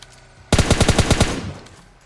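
Rapid burst of about ten M4 rifle shots in the mobile battle-royale game PUBG Lite, loud and close, then a short fading echo.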